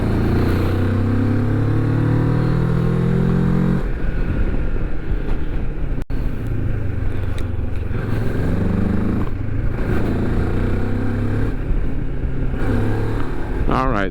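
A Moto Morini X-Cape 649 motorcycle ridden along a back road, its engine droning steadily and rising and falling through gear changes, with heavy wind rush over the microphone throughout.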